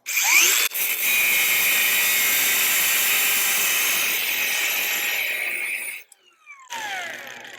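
A cordless power tool runs loud and steady for about six seconds during a welding build, then cuts out, followed by a brief quieter burst.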